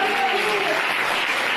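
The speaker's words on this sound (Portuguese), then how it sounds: "Você pode aplaudir" Brief, dense burst of applause from an audience at a church service, steady and close, with a voice faintly underneath.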